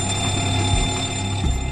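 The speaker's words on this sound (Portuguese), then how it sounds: "alarmes de incêndio soam em várias áreas diferentes do porão de" Fire alarms ring in an aircraft cargo hold, a loud continuous electronic tone held steady over a low rumble.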